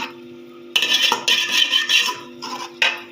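A spoon scrapes and clinks against a metal cooking pot while guar bean pods are stirred in Punjabi-style cooking, several rough bursts of stirring, close and fairly loud over a steady low hum.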